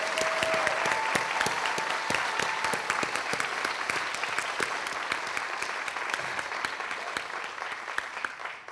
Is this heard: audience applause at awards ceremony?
yes